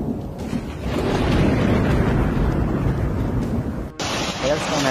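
A hailstorm and windstorm in Quetta, Pakistan roars as a loud, steady wash of wind buffeting and pelting hail, broadband and constant, with a brief dip near the end.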